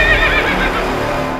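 A horse neighs in a loud, wavering whinny lasting over a second, heard alone without talk.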